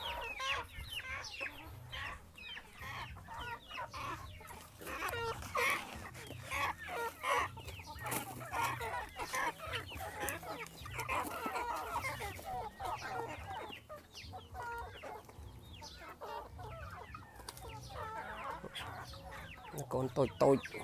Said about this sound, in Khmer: យើងចាប់ផ្ដើមដាក់ឲ្យមាន់